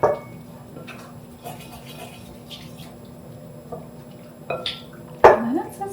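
A soy sauce marinade being stirred in a bowl in a home kitchen: quiet scrapes and light clinks of a utensil against the dish, ending in a sharper clatter, close and without speech.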